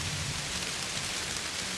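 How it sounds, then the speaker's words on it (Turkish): Steady spring rain falling, a dense even hiss of drops with a low rumble underneath, continuous and unbroken throughout with no voices. "Yağmur yağıyor gene."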